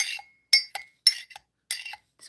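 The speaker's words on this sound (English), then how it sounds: "Just pushing the leaves back down into the cup." A spoon clinks against a teacup while pushing tea leaves down: about five light, close metallic-ceramic clinks in an uneven rhythm, soft and brief with near silence between them.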